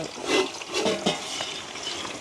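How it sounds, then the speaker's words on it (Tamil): Village-style fish curry coming to a boil in a pot gives a steady close bubbling hiss and sizzle, with a few louder pops and splutters over about two seconds. "இப்போ தான் அப்படியே கொதிச்சு கொண்டு வருது"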